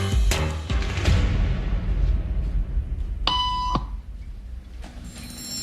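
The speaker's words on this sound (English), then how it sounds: "Beep means stand up." A single electronic beep with stacked harmonic tones rings out clearly for about half a second amid a noisy room murmur during a social conformity experiment.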